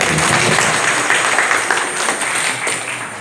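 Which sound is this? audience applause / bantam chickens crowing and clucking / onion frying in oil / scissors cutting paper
audience applause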